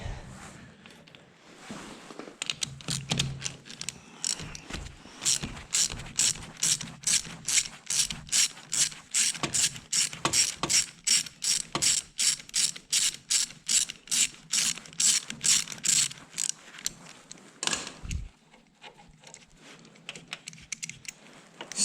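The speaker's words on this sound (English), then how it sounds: "3/8 ratchet extension" A 3/8 ratchet with an extension works on a Honda CBR 125 motorcycle, clicking in a fast, even series of close, crisp pawl ticks that runs for about fifteen seconds before stopping.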